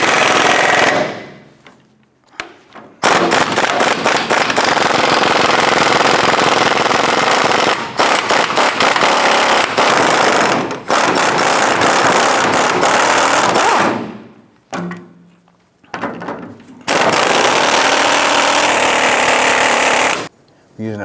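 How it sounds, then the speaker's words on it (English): Bursts of a pneumatic impact wrench driving a 13mm socket on a swivel, backing out the four gas tank bracket bolts on a 1994-2004 Chevy S10; loud repeated rattling runs of a few seconds each, separated by short pauses. "Using a 13mm socket and swivel, we're going to go ahead and remove the 4 bolts holding the gas tank bracket."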